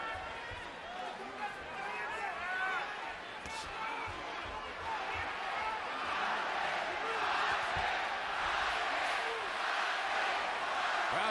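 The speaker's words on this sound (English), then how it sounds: "Crowd trying to lift Juan Manuel Marquez" A boxing arena crowd cheers and roars continuously for Juan Manuel Marquez during his fight with Timothy Bradley Jr., a dense, steady swell that builds toward the end, with a commentator's voice running beneath it.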